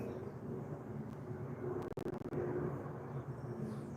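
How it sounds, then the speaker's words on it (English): A loud, steady roar from a jet airliner flying overhead fills the clip, a broad rumble that holds throughout with a brief choppy dropout near the middle. "That was a jet flying over and a fucking truck."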